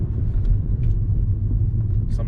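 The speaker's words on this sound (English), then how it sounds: "Stuck in traffic in the middle of" Traffic rumbles steadily in Sherman Oaks, Los Angeles, a loud low engine drone from cars close by with no break.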